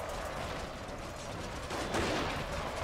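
Fire bomb explosions in the video game Total War: Shogun, a steady rumbling barrage of blasts and crackling gunfire-like bursts, dense and continuous, swelling slightly toward the end.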